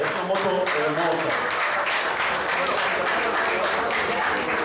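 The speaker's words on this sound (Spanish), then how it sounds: "Un aplauso, por favor." An audience at a Kawasaki Z650 motorcycle launch claps steadily throughout, with a dense, even wash of applause that holds at a moderate, full level from start to finish.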